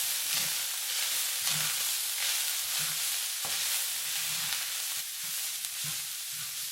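Ground black pepper and garlic powder being stirred into a sizzling mixture in a frying pan, with a steady hiss and rhythmic scraping strokes of the utensil, close and fairly quiet, no talking.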